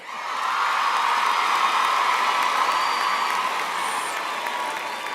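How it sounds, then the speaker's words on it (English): Graduates fill a university graduation ceremony hall with a sustained round of applause, a dense, loud wash of many clapping hands, with scattered cheers, swelling in and holding steady. "can you give a big round of applause to yourselves?"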